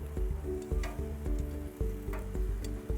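Strawberries and baby beets grilling on a barbecue give a steady close sizzle with small rhythmic ticking pops, no talking.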